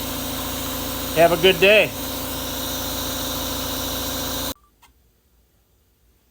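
A Chevy engine with freshly replaced valve seals idles steadily at moderate loudness, a voice speaks briefly partway through, and then the sound cuts off abruptly to near silence.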